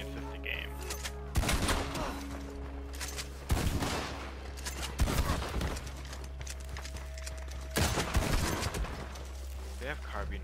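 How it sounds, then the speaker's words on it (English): Lawmen in Red Dead Online fire carbine repeaters in a chase: four or five sharp, loud shots spaced a second or two apart over a steady low rumble, with someone talking between them. "They have carbine repeaters"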